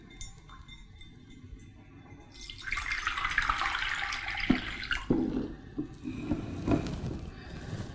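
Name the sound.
boiling hot water poured into a pot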